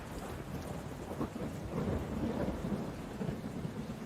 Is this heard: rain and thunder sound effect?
yes